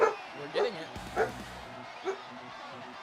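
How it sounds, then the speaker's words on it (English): A dog barks and yips in short bursts, about four times, at moderate distance, mixed in with someone talking and game sounds in a room. "Sorry about the dog, ladies and gentlemen."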